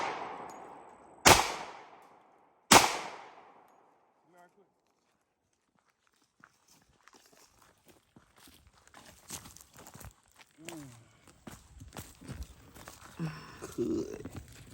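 A Glock 30S .45 ACP pistol fires hollow-point rounds at a pumpkin outdoors: two loud, sharp close shots about a second and a half apart, followed by quiet rustling, shuffling and people talking.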